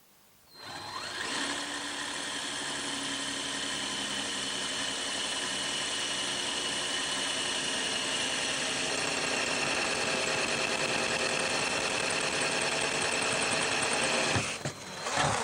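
An ARTU drill bit bores into concrete, a loud continuous grinding whine that starts abruptly, holds steady and close for about thirteen seconds, then cuts off, with no voices.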